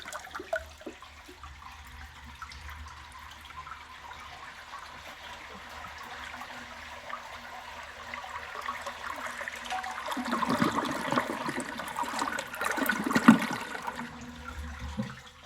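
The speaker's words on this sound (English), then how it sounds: "I'm going to give it another flush and see what it does." A 1961 Case 1100 Lowboy toilet is flushed, building from a quiet trickle into a louder rushing swirl of water that peaks near the end, heard alone.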